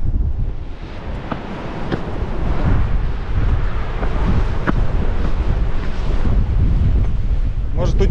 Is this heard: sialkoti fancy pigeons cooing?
no